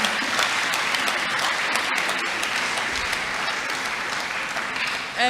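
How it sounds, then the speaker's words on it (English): Lecture audience at a University of Ghana event applauding, a sustained dense wash of clapping from a large crowd, steady and loud for several seconds with a voice breaking in at the end. "So a round of applause for everyone, but especially for colleagues from UNU INRA"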